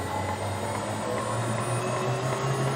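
An Italian ice machine motor ramps up, a loud, steady roar with a droning hum and broad whooshing noise, like a powerful machine running at full speed.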